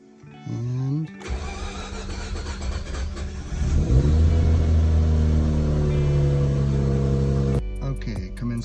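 A Mazda RX-8 rotary engine cold-starts with an aftermarket SpeedMaster starter: a second of starter cranking, then the engine catches and revs loudly, holding a steady high idle for several seconds before cutting off, close and loud.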